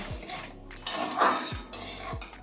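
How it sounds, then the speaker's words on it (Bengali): Metal lid lifted off a pot of boiling mung dal cooked with chickpea greens, with a couple of clanking, scraping metallic knocks close by and no talk. "এবারে ঢাকনাটা খুলে নিচ্ছি"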